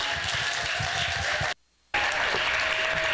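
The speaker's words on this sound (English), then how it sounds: "Big round of applause for our wonderful rock star, Shradda" An audience at a Broadcom tech event gives a loud, sustained round of applause to welcome a speaker onstage. The clapping cuts out briefly midway, then resumes just as strongly.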